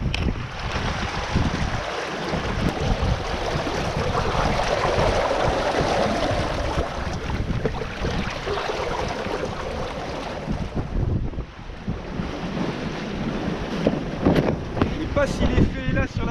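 Choppy, wind-driven sea heard from aboard a sailboat running downwind, with steady broadband wind rush and water noise slapping against the hull throughout, fairly loud and close.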